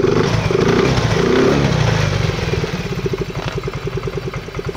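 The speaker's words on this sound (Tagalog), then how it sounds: "Ngayon ay susubukan po nating paandarin kung tuloy-tuloy ba yung andar po ng MIUI po natin." A Yamaha Mio i 125 fuel-injected scooter engine, being checked after stalling, runs up close with a rough uneven start that settles into a steady, rapid putter at idle, with no talking.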